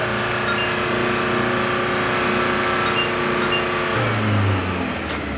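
A car engine is held at a steady 4,000 rpm with the accelerator pressed, giving a constant loud drone. Near the end it briefly rises as the throttle shifts, with no talking.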